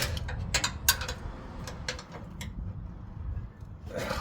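Two wrenches work the bolts on air bag springs fitted to a 2013 Ford F150, giving a run of quick ratcheting clicks and metallic ticks, close but fairly soft, over a low mechanical background hum.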